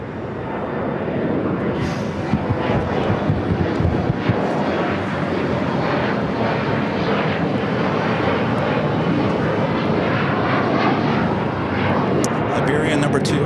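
An airliner taking off from runway 25 right at LAX, a steady, loud, broad roar of jet engines with wind buffeting on the microphone, unbroken from start to finish.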